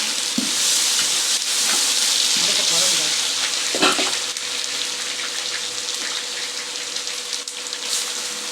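Onions sizzle steadily in hot oil in a pan for Bakrid mutton biryani, with a continuous close frying hiss and occasional stirring scrapes.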